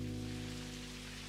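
Steady rain falls outside in the game Necrobarista, a constant wash of hiss with a low hum beneath, no voices.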